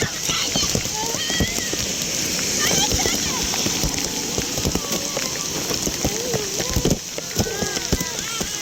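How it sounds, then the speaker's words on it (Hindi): Heavy rain pours down in Faisalabad while kids splash and play in it, a dense, continuous hiss of drops and splatters with children's voices and shouts throughout. "ये हमारे फैसलाबाद में बारिश हो रही है बहुत ज़्यादा"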